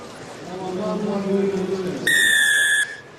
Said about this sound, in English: Whistle blows, and away we go, second half, as Mackenzie